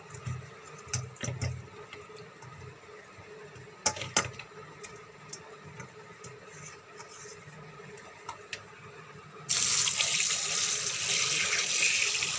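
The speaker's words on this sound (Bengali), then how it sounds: "মাছগুলো একটু নুন দিয়ে ধুয়ে নেব" Fish being rinsed with salt under a running kitchen tap, steady water splashing near throughout with small handling knocks, growing louder and fuller toward the end as the flow strengthens.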